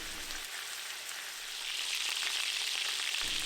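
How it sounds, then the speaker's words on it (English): Chicken thighs sizzle skin side down in smoking-hot olive oil in a pan, a dense, bright crackling hiss that swells louder partway through and stays steady and close. "as soon as it starts to smoke here, I'm going to add my chicken skin side down"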